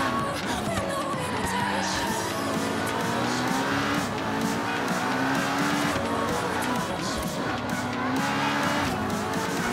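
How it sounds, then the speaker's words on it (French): Car engine roaring as it accelerates through a corner in a Ferrari versus Lamborghini racing video game, with continuous loud engine drone and tire squeal, and a voice talking faintly underneath. "Là on accélère dans le virage."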